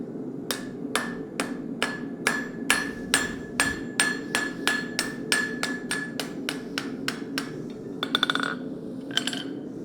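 Steady hammer blows ring on an anvil as hot metal is forged flat for a dragon head, about two strikes per second, sharp and close, ending in a few lighter ringing taps.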